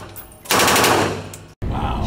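A machine gun fires 7.62x51 mm rounds in one loud sustained burst of rapid shots, followed by a brief silence and then more firing noise.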